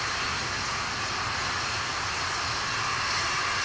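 An Atlas V rocket climbing away from Cape Canaveral, Florida, produces a loud, continuous broadband roar that holds steady and unbroken throughout.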